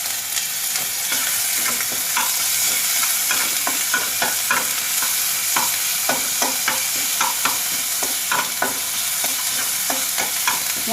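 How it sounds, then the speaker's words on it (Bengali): Onion paste sizzling and frying in a pan with garlic for a mushroom curry, a steady close hiss broken by repeated scraping stirs of a spoon, alone without talk. "এবার পেঁয়াজ বাটা দিয়ে দেব,"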